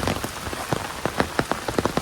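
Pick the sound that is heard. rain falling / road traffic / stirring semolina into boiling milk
rain falling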